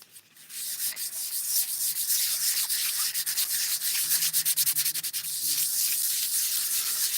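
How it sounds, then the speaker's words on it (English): Hand sanding a cut slice of tree branch with its growth rings, producing a steady, close, continuous scratchy rasp with quick rhythmic strokes through the middle, alone without talk. "I'll just hand sand it."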